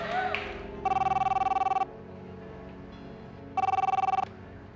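A telephone rings in two long electronic trilling bursts separated by a pause, loud and close, with faint background sound between rings.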